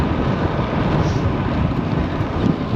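Strong wind roars and buffets the microphone while cycling into a headwind on a long road ride home, a dense, constant rush with small gusts and no speech.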